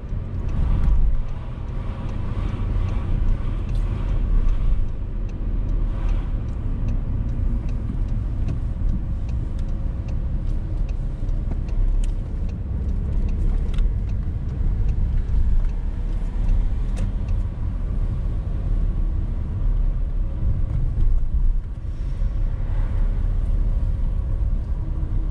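Car interior during a driving test, a steady low engine and road rumble that holds loud and even throughout, with faint tire and wind noise and no talking.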